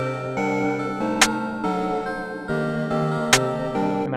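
UK drill beat programmed in Ableton, with the clap shifted slightly off the grid; a looping beat with melodic layers and two sharp clap hits, moderately loud, no voices.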